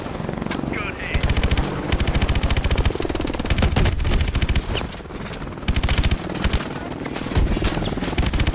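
Dense, sustained automatic gunfire in the video game Call of Duty Advanced Warfare, loud rapid bursts firing almost continuously with heavy booms and battle noise throughout.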